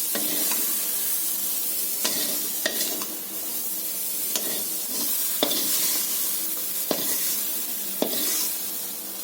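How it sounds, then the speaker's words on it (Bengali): Prawns frying in oil in a wok, a steady close sizzle and hiss with several sharp clinks and scrapes of a spatula stirring at irregular intervals. "এখানে আমি লাল লাল করে বন্ধুরা চিংড়ি মাছটা ভেজে নিচ্ছি"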